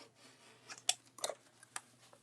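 A few sharp crisp snips of scissors trimming excess fabric and zipper edge on a sewn pouch, irregularly spaced, close by and fairly quiet.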